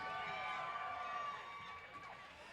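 A roller derby crowd cheers and shouts for the Brutal Beauties, loud at first and then easing slightly as the roar tails off toward the end.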